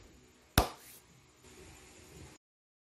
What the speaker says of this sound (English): I will try clapping to see if the sound sensor is working.